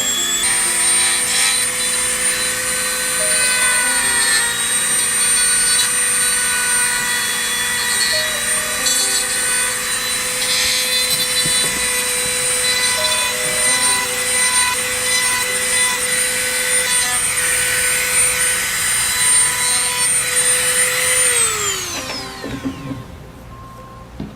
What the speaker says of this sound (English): it gives me quite a good polish down the edges